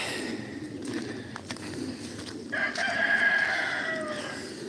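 A rooster crows partway through, a single drawn-out call heard at a distance over rustling outdoor ambience.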